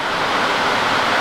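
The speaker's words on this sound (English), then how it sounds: "Right, it's actually starting to rain again," Rain falls outside a workshop as a steady, dense hiss of broadband noise with no breaks, fairly loud and unchanging.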